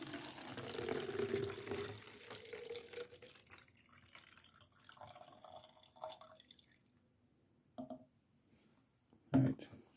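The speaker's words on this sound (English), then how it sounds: "we need to transfer the water because the water's in the wrong container" Water is poured from one container into another for an hourglass air pump demonstration, a continuous trickling flow that fades out, followed by a few isolated drips and a final splash.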